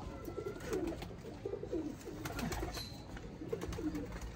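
A golden pigeon coos softly at close range, giving several low, rolling coo phrases in repeated bursts over a steady background hiss.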